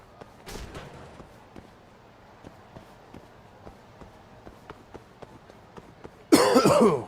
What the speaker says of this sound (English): I'm really trying not to cough directly into the mic